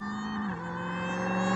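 A supercharged Dodge Challenger muscle car revs, its engine holding a steady droning tone that dips once and then builds gradually in pitch and loudness, with no one speaking.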